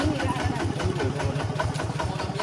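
A walking tractor engine chugs nearby in a fast, even rhythmic putter, loud and continuous, in a village in Khammouane Province, Laos.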